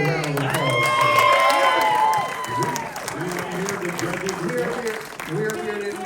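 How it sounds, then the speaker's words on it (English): Audience applause and cheering at a beer and wine sip-off tasting event in San Diego County, a dense crowd roar with whoops, clapping and shouting voices, loud and sustained before thinning slightly toward the end. "Can we get a round of applause?"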